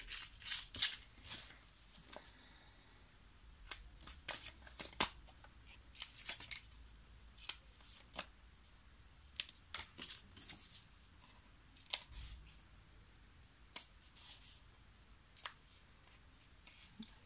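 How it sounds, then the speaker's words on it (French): Scissors snip through paper pieces at an angle for a handmade mini scrapbook album, giving a scatter of short, crisp cuts close by with brief pauses between them. "vous les coupez en biais"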